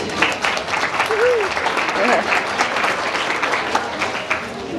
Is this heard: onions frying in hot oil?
no